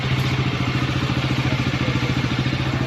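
Motorcycle engine on a long-distance ride, a steady rhythmic low thrum with regular pulsing, close and continuous under some wind.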